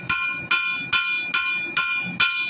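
Steel is hammered on an anvil while forging a dragonfly, six sharp ringing strikes at an even rhythm about half a second apart, each leaving a bright metallic ring, close and loud.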